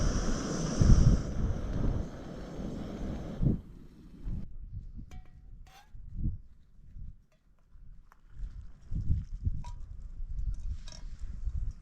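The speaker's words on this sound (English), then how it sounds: "So the wind seems to be calming a little bit. It's just more of a gentle breeze now." Wind gusts roar against the microphone on the Scottish coast, loud at first and then dropping to a gentler breeze with scattered soft buffets and faint background sounds.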